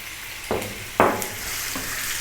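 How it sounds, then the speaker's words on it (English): Beef slices and ginger stir-fried in sunflower oil in a pan over high heat, a steady close sizzle with a few louder bursts as the meat is tossed. "we're going to go for about 4 minutes throwing this around, just these 2 in the pan"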